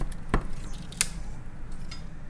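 A deba knife slices through fish at a sushi chef's counter, giving two sharp, close cutting strokes: one crisp chop early and a second bright slicing snap about a second later, over a low, steady room background.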